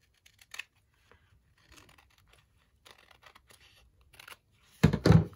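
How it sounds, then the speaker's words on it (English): Scissors trimming collage paper for book pages make a few sparse, crisp snips and rustles, then a louder burst of cutting near the end, close and otherwise quiet. "So I just take my scissors when it gets like that."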